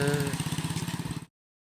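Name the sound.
homemade motorcycle engine running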